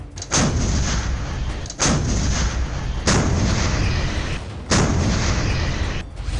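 Four heavy blasts from Indian Army K9 Vajra and M777 howitzers boom one after another at irregular intervals, each followed by a long rumbling echo.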